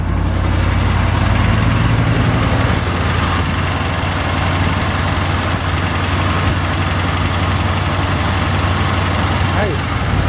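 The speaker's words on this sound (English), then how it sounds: "So it's got the fast idle going." A Chevy K10 truck with a mechanical fuel pump runs on fast idle after a cold start, a steady low engine rumble that continues loudly throughout.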